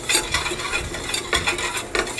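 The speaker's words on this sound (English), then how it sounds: "Let's mix it together so there's no lumps." Splenda mixture stirred briskly in a bowl to break up lumps, quick repeated scraping and swishing strokes, close and loud, no voices.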